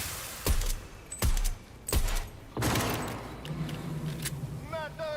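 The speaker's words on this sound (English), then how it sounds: "That's a sniper, yeah." Cyberpunk 2077 sniper rifle fire: four sharp, separate cracks about a second apart, followed by a longer burst and fainter mechanical clicks, with a voice talking over it.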